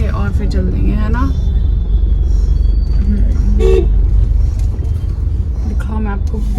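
Dense city road traffic in India, a steady rumble of cars and buses with several short car horn toots scattered throughout, with people talking in the foreground.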